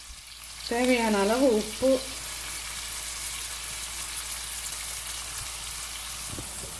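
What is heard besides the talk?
curry leaves sautéing in a pan for Chettinad chicken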